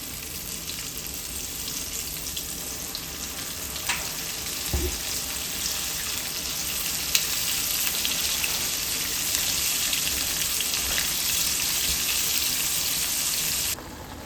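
Continuous bright sizzling of chicken thighs frying in hot oil in a skillet, steady and close, with a soft thump partway through.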